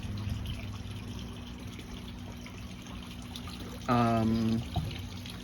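Airlift pump raising oxygenated water from a garden pond into a radial settler at 40 to 80 liters per minute: a steady, soft gurgling flow under a constant hum, with a short louder tonal sound near the end.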